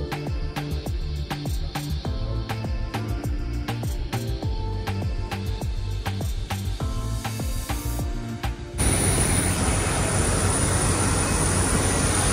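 Airplane cabin noise on a flight bound for Bishkek: a steady broadband roar with a rhythmic clatter early on, swelling into a louder, denser rush in the final seconds, with no talk.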